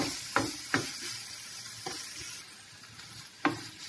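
Grated amla frying with a spice tempering in a pan, a steady hiss of sizzling oil broken by a few sharp scrapes and knocks of a spoon stirring against the pan.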